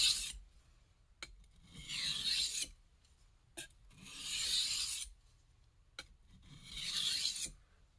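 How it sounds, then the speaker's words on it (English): A knife laid flat on a sharpening stone for thinning rasps in three separate long strokes, each a close, bright scraping swell separated by brief pauses and small clicks. "thinning is just going to be with the knife flat on the stone"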